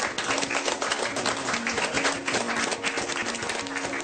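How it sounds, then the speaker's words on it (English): A room of people claps steadily and fairly loudly in a warm round of applause, the dense patter holding even throughout with a faint tonal hum beneath it. "Let's have a round of applause, please."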